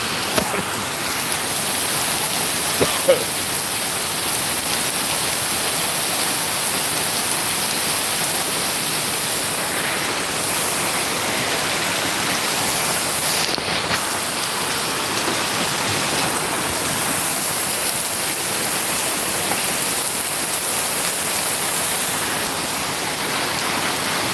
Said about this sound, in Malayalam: റോഡിൽ കൂടെ ഒഴുകി വരുന്ന മഴ കണ്ടോ